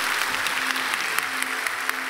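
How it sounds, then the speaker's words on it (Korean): Steady applause from a church congregation during an infant blessing service, dense and close with many overlapping claps held at a constant level throughout. "박수"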